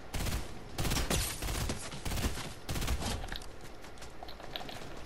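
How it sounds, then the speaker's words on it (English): Video game gunfire, loud bursts of rapid shots in several volleys, then quieter scattered pops fading out, with no talk. "Cause I hear shooting."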